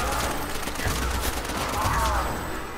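Rapid MP40 submachine-gun fire in Call of Duty: World at War zombies mode on the Verrückt map, dense continuous bursts that stay loud throughout, with faint voices mixed underneath.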